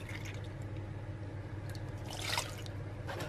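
Eggs, vanilla and milk are poured into apple and cinnamon muffin batter in a bowl, making faint, soft liquid splashes and small drips in a quiet kitchen.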